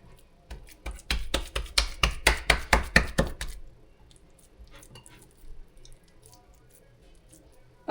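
Bare hands working raw meatloaf mixture in a pan, a quick rhythmic run of wet squelching slaps for about three seconds, then softer scattered squishes, close by and without talk.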